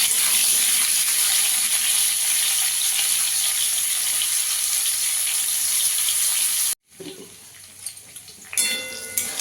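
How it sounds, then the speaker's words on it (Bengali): Sweet potato fries with vegetables in oil for Bengali shukto, a loud dense sizzle for several seconds before cutting off into quieter clatter and faint hiss. "রাঙা আলুটাও দিয়ে দেবো। একসঙ্গে একটু ভেজে নেবো ভালো করে।"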